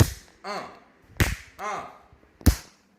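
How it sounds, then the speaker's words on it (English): Three sharp slaps, a hand smacking a wrist at a steady pace, each followed by a brief ringing echo, loud and close with no talking. "I'm gonna slap my wrist because I got my phone right here"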